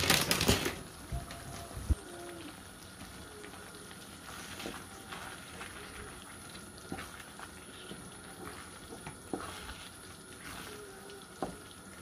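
Vegetables being added to a pan of thickening shepherd's pie filling, with a soft steady sizzle and bubbling, a few clinks and a louder clatter near the start, and no talk.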